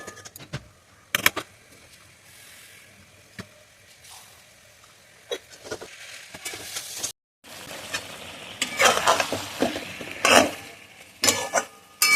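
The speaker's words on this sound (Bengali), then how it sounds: "আর তারপর কিছুটা জিরে গুঁড়ো আর ধনে গুঁড়ো দিয়ে ভালোভাবে মশলাটাকে কষিয়ে নেব" Spice masala of turmeric, salt, cumin and coriander powder being stirred and fried in a pan, intermittent scraping and clinking of a utensil against metal over a low sizzle, with bursts of louder stirring and one brief silent gap.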